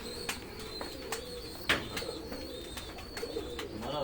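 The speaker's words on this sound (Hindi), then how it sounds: "हमारा सर जी अपना कबूतर है" Pigeons coo softly in a repeating low murmur, with a few sharper chirps and wing-like bursts over steady background noise.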